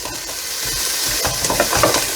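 Onion and garlic sizzling in a pan while stirred, a close, loud, steady frying hiss with bursts of scraping from the stirring, no talking.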